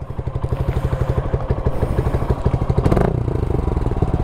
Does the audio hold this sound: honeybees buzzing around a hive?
no